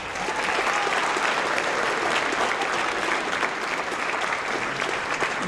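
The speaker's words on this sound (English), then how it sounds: "a round of applause" An audience at a school Veterans Day 2018 ceremony claps for the band, a loud, sustained round of applause that swells in quickly and holds evenly throughout.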